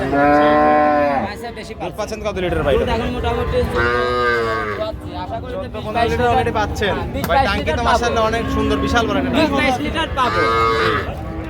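A Black Jersey cow moos loudly and repeatedly at a busy cattle market, the long drawn-out calls rising over constant close chatter and trader voices.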